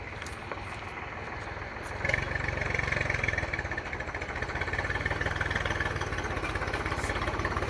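A Massey 1035 Maha Shakti tractor engine running steadily nearby, a low throbbing idle that swells slightly louder partway through, with no talking.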